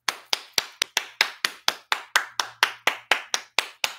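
A single person claps their hands slowly and evenly, about fifteen sharp, close claps in a steady rhythm with no talking.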